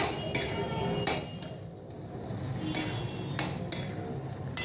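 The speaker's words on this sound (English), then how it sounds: "Now I am going to start completely mixing the pongal." A ladle stirs venpongal in a pot, giving soft scraping with a few sharp clinks against the metal, quiet and close, spaced irregularly.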